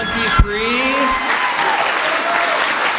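Crowd at an eighth-grade graduation ceremony applauding the graduating class: steady, full clapping close by with a sharp clap near the start, continuing to the end.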